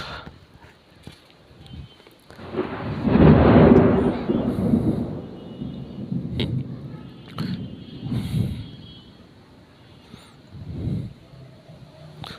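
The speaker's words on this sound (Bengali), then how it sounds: "হঠাৎ করে ঝড় আসলো কিভাবে?" A deep rolling rumble of thunder from a sudden storm with strong wind swells and fades, followed by softer gusty rumbles and scattered knocks in the background.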